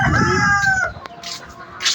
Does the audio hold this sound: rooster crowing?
yes